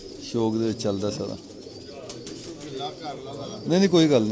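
High flyer pigeon cooing in a Pakistani kabootar bazi setting, soft low coos coming in short bursts near the start and end while someone talks over them.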